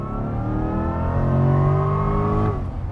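A Chevrolet Corvette C8 E-Ray, a 655-horsepower hybrid, sounds its engine exhaust up close in a smooth, rising drone that swells and holds for about two and a half seconds, then cuts off abruptly.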